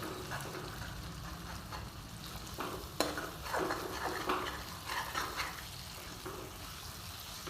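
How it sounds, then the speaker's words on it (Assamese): Broiler chicken curry is stirred in a pan, giving soft scraping and scattered clinks of a utensil against the metal over a low, steady sizzle, faint and close. "অলপ দেৰি এতিয়া এনেকৈ মই লৰাই দিম, লৰাই পেলাই অলপ সিজাই ল'ম।"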